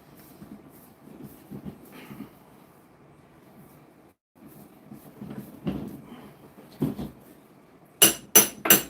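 A hammer drives a wedge into a meat slicer. Soft scattered knocks lead up to three sharp, ringing metallic strikes in quick succession near the end.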